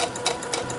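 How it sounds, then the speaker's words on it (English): A sewing machine stitching a line through quilting cotton fabric, with a quick rhythmic needle chatter close by in a short, steady burst. "And then just sew your line."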